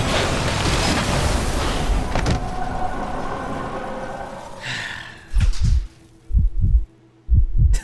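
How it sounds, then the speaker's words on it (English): In the horror game Layers of Fear, a deep heartbeat thumps in heavy doubled beats after a loud, noisy rush, each pulse booming low and close as the din drops away. "Heartbeat effect."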